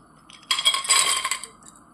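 Cashews tumble into a pan of melted ghee with a bright, clattering rush that lasts about a second, close and lively, then fades to quiet with no voices.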